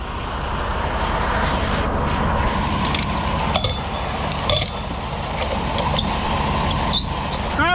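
Pneumatic bulk cement tank blower running while unloading, a steady loud mechanical roar with airy hiss that holds constant throughout, with a few faint clinks and a brief whistle near the end.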